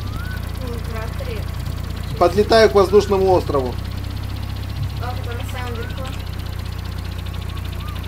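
A tractor engine in the Roblox game Fling Things and People hums in a steady, low idle throughout, while a person speaks over it.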